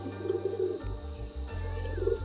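A male Dobaz pigeon coos close by, a few low rolling burbling phrases in steady rhythm with no voices.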